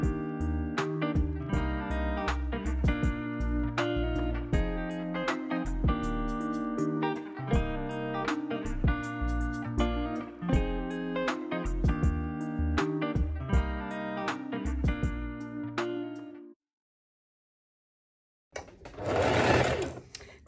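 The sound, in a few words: sewing machine stitching a tote bag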